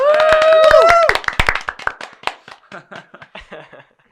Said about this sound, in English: We didn't peak the audio clapping.